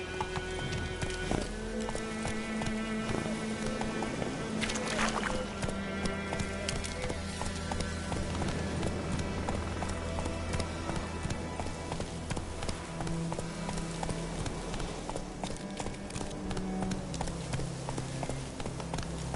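Horse galloping in a video game, rapid rhythmic clip-clop hoofbeats running steadily and close, with faint background music and brief voice sounds underneath.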